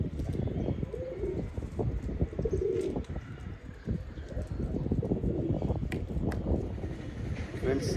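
Pigeons cooing softly in a fancier's loft, low repeated coos mixed with occasional chirps and fluttering, with someone talking over them throughout.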